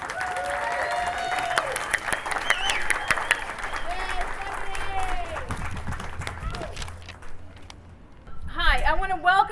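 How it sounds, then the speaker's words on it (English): A crowd at an outdoor housing rally in Austin applauds and cheers, with shouts and whistles over the dense clapping. A voice speaks near the end. "Please give her a round of applause."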